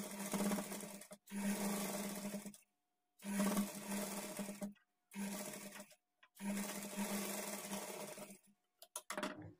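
A sewing machine stitches along a blouse edge in four separate bursts, each a second or so long, with clean silent gaps as the fabric is repositioned. The motor's whir is close and clear, with no talking over it.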